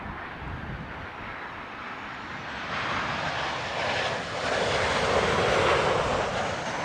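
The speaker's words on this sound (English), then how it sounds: "That 737 noticeably quicker approach speed, quite common for the Boeing 737." A Boeing 737 airliner on landing approach at Heathrow roars overhead as a steady, broad jet rumble that swells louder toward the end, heard from a distance with some wind noise.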